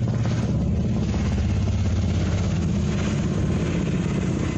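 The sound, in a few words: combat helicopters flying over the area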